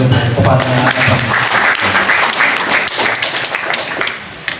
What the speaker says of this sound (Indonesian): kita apresiasi, kita tepuk tangan lagi